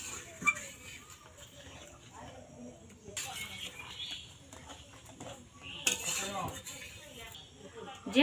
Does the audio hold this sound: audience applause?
no